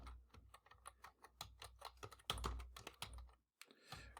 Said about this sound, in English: Now notice as we type into the text that the text aligns itself up and resizes itself.